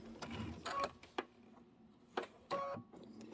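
Domestic sewing machine stitching off the edge of quilting fabric at a tiny 2.0 stitch length, with short bursts of mechanical whirring and clicks separated by brief pauses.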